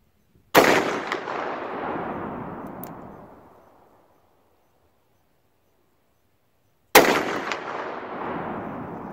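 .500 Magnum revolver fires at a steel plate at long range outdoors: two loud, sharp shots several seconds apart, each followed by a long rolling echo that fades out, with silence between them.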